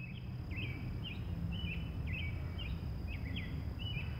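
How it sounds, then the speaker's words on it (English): Repeated high, short chirping calls from a bird ring out regularly over a low, steady background hum. "And listen to the birds!"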